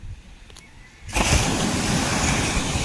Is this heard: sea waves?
yes